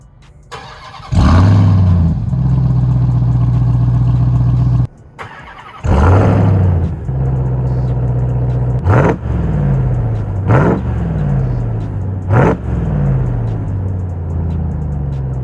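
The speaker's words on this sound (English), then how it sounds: "if you've never heard the sound of a TRX from all those YouTube videos floating around," A 2022 Ram 1500 TRX Ignition Edition with a supercharged 6.2-liter Hemi V8 fires up and revs hard several times, each sharp blip falling back to a deep, loud idle, close by with no talk.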